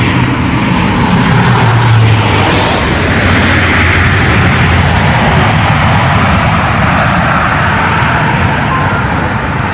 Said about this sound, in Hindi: आज इंडियन एयरफोर्स का C-130 सुपर हरक्यूलिस विमान भी 3 किलोमीटर लंबी इस एयर स्ट्रिप पर आसानी से लैंड कर गया।